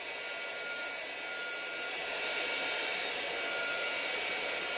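A hair dryer blows alcohol inks around on resin, a steady close rushing whoosh that holds constant for the whole stretch and swells slightly louder partway through, with no talking.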